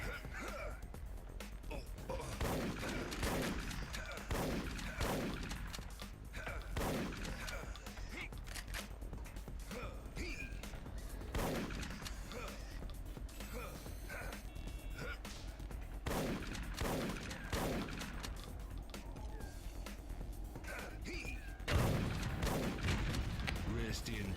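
Enemy gunfire in Duke Nukem: Manhattan Project, scattered shots and booming blasts recurring at moderate loudness throughout, with someone talking over the action.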